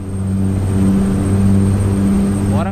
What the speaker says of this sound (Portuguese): vamos dar uma acelerada